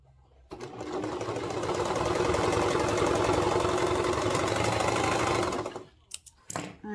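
A sewing machine stitches a toddler's swimsuit in one steady, close run of fast mechanical chatter lasting several seconds, then stops, followed by a few brief handling clicks.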